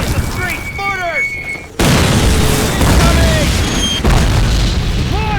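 Mortar shells burst in a World War II street battle in the 2003 game Call of Duty, a heavy booming blast cutting in abruptly and rumbling on, with shouted voices and crackling battle noise around it.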